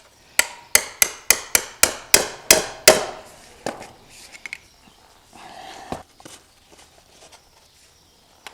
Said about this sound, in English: I'll just give that a bash with a screwdriver actually.